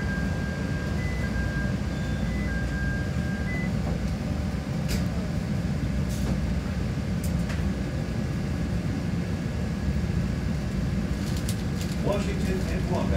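A CTA Green Line train running in Chicago, heard from inside the car: a steady rumbling roll with a faint tone and occasional clicks and squeals as it moves along the track.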